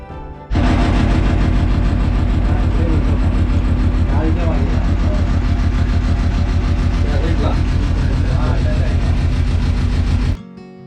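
A motorboat engine on the Koyna backwater drones loud and close in a steady, even rumble for about ten seconds before cutting off abruptly.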